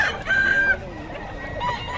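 A fighting rooster crows once, close and clear with a drawn-out call, over a background of other fowl sounds and ambient noise.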